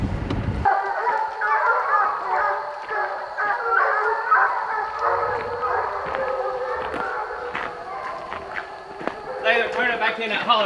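Hunting hounds barking, yipping and howling on a bear trail in the woods, a steady chorus at middle distance running through the whole stretch with voices talking over it.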